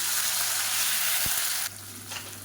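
Loud, steady sizzling of chopped tomatoes frying in hot oil, with a brief knock partway through before the hiss settles slightly quieter.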